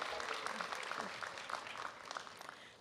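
Applause for faculty and staff at a university commencement ceremony, a broad, slightly distant crowd clapping with scattered sharper claps, some cheering and murmured voices mixed in, and it thins a little toward the end.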